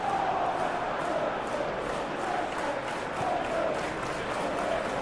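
Stadium crowd in a football simulation game of West Ham versus Manchester United, a loud continuous roar of cheering with rhythmic chanting swells, heard alone without commentary.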